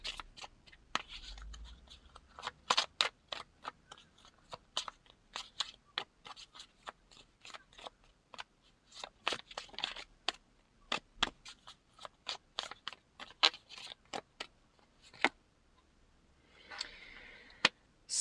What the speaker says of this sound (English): While I was shuffling these cards